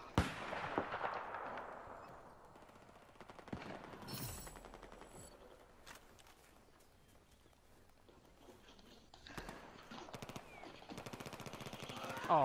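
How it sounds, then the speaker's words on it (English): Rapid gunfire and explosions from a shooter video game, bursts of shots and booms scattered through the clip, with someone talking quietly over the action. "I guess they're shooting."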